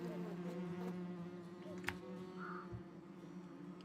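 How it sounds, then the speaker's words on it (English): Bees buzz faintly around beehives in the off-road truck game Snowrunner, a thin insect drone under a steady low engine hum, with a few small clicks. "Hear the beehives."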